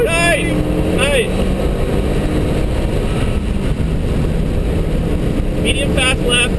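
A Renaultsport Megane Cup turbo at full throttle on the Nürburgring Nordschleife, a loud, sustained engine roar heard from inside the car, with rising whines at the start and end.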